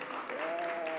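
An audience applauds and cheers as a speaker comes on stage at a digital and technology event, with a steady wash of clapping and a voice calling out above it throughout the short burst.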